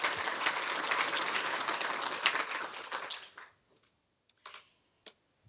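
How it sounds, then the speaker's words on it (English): An audience at a smart manufacturing conference applauding: dense, fairly faint clapping that holds for about three seconds, then tapers off to a few scattered last claps and silence. "So round of applause for everything that's been going on."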